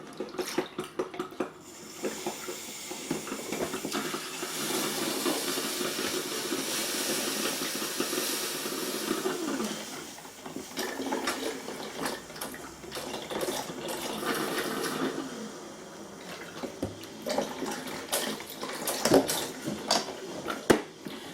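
A tea-brewing machine heats about a litre of water packed with herbs, giving a steady steamy hiss with watery bubbling and occasional small clinks throughout.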